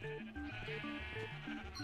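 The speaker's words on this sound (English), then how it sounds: "Listen to all those sheep" Several Minecraft sheep bleat in overlapping repeated cries, a steady chorus of game baas close by with no talk.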